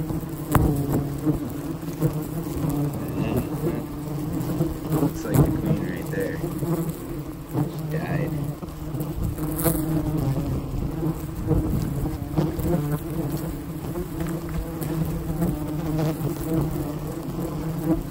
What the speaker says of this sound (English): That's all the bees landing on the lens of the camera.